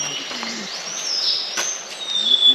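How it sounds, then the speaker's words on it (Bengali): Birds whistle and chirp on a cloud-covered roadside near the hill village of Sillary Gaon in Kalimpong, with several thin, high calls and sustained notes sounding moderately close in otherwise quiet surroundings. "শুনতে পাচ্ছেন পাখির আওয়াজ?"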